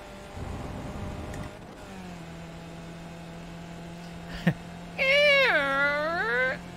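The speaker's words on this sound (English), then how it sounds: "That sounds like a door opening." In the iRacing sim, a sharp click is followed by a creaky, wavering whine like a door opening. It rises over a steady low engine hum from the race car.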